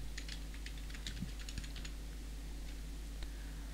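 Typing on a computer keyboard to enter a website name, a quick run of light, close key clicks in uneven bursts over a steady low hum, no voices.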